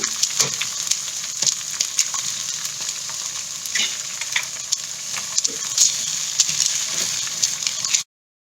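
Steady loud sizzle of frying in a wok for simple fried rice, with small stirring scrapes and pops scattered throughout, then an abrupt cut to silence.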